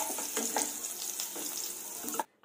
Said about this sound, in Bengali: এখন আমি ভালো করে নেড়ে চেড়ে এটাকে ভেজে নেব।